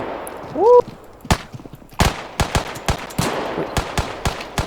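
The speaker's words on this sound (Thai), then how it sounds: "ปืนผมรัวเร็วนะ" Gunfire in the Deadside shooter game, with a handgun firing rapid sharp shots: one early crack, then a quick irregular string of close, loud reports with a brief voice-like chirp near the start.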